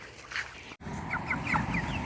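Meat chickens in a coop cluck in short, repeated calls as they are let out, the chatter steady and close.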